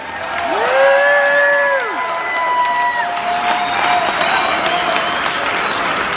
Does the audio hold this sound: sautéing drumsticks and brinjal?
no